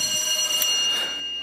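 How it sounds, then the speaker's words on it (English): A steady, shrill electronic alarm tone sounds continuously at the startup of the SAQ Grimeton longwave radio transmitter, warning of missing water and oil pressure. The tone is loud and close and rings alone. "now you can immediately hear that we have an alarm signal"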